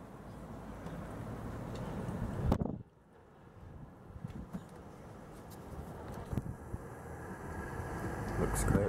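Gusting wind rumbles and buffets against the microphone, with a sudden lull partway through before the blustery noise builds back up.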